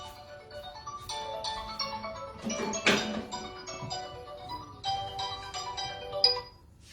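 A mobile phone ringtone plays as a bright, repeating melodic tone pattern for several seconds, moderately loud and close, with a busier burst partway through, before it cuts off abruptly at the end.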